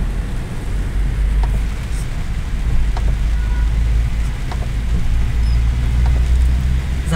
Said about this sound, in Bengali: দেখুন কি পরিমাণ বৃষ্টি দেখুন